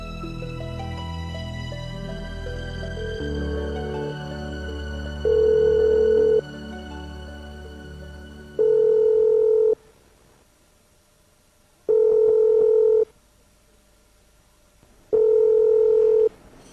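Telephone tones in a classic PTV drama serial: a rapid run of dialing tones gives way to steady, loud beeps that repeat about four times in even bursts with silent gaps between them, with no talk over them.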